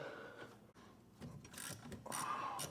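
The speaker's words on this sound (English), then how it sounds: "10 millimeter deep well socket on a 1/4 inch drive. That's the best way to get that bolt out." A 1/4 inch drive ratchet with a 10 mm deep well socket works a bolt loose on a 1999 Ford Escort, giving close, quiet clicking and mechanical rasping in short bursts.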